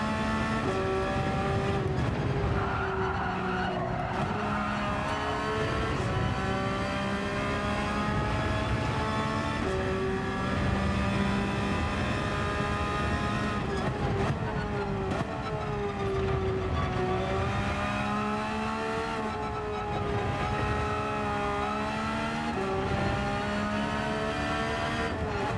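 A Porsche race car in Gran Turismo 7 on the Dragon Trail circuit: a loud, continuous engine howl rising and falling through gear changes, close and steady for the whole stretch with no talking.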